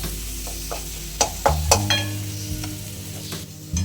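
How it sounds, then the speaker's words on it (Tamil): Spinach being sautéed in a pan for a palak keerai gravy, with sizzling and several sharp scrapes and clanks of a utensil stirring the greens, close and fairly loud with no talking. "கொஞ்சம் நம்ம இந்த கீரையை போட்டு வதக்கிக்கலாம்"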